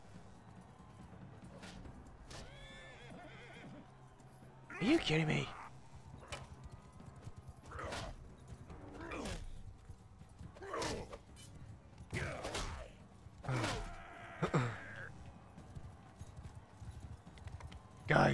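Horses in the medieval battle game Mount & Blade II: Bannerlord, hooves clattering in bursts alongside impacts and a neigh, mixed with players talking over voice chat.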